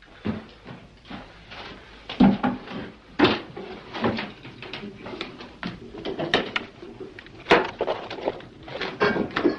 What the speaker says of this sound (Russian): кто-то стучит в окно. Я имею в виду в мою дверь.